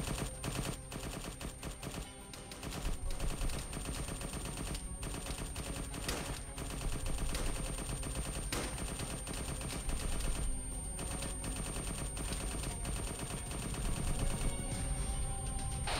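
.50 caliber machine gun fire in the military shooter Arma 3, loud sustained heavy bursts with sharp distinct reports and brief pauses between strings of shots, continuous across the span with no talk.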